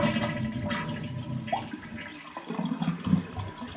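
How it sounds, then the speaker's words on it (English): Water rushes steadily into a toilet tank through a faulty fill valve that will not shut off, a continuous close hiss and gurgle with no pause. "this fill valve will not shut off, and the water's filling over"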